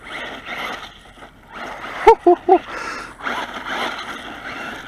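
A HOSIM X08 1:10 scale monster RC truck running on a 3S battery spins donuts in dirt, its electric motor whining in surges over gritty tire scrabble, with three short sharp chirps in quick succession midway, close by outdoors.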